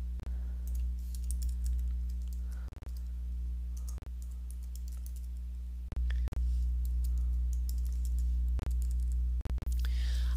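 Code being typed on a computer keyboard: a handful of separate key clicks spread across the stretch, sitting over a steady loud electrical hum with no speech.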